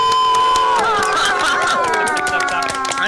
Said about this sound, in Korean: 다들 박수.